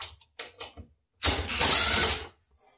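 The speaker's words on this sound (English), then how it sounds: "You can use a socket wrench if you choose to." A socket wrench ratchets out screws on a GE refrigerator during evaporator fan motor replacement, a few short clicks followed by a steady, louder buzzing ratchet run up close.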